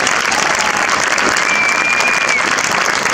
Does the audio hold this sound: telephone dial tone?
no